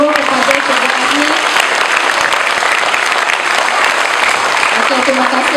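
A school ceremony audience gives loud, sustained applause for a teacher, dense clapping from many hands filling the whole stretch without a break.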